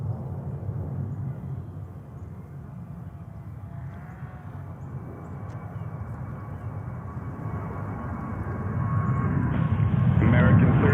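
A JetBlue Airbus A321 airliner at JFK airport rumbles at a distance with a steady engine roar that swells louder toward the end, while people talk over it.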